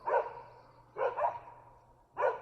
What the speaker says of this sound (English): These dogs are sounding their alarm constantly.